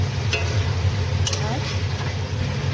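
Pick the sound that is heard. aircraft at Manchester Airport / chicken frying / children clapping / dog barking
chicken frying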